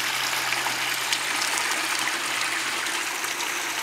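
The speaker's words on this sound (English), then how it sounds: "the much needed tranquil fall of the waterfalls cascading between each pond" Small waterfalls spill between ponds in a steady, continuous rush of falling water, moderately close and unbroken, with no voices over it.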